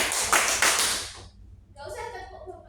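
A fourth-grade elementary classroom claps out a rhythmic pattern in quick, loud bursts of hand claps, followed by brief children's voices.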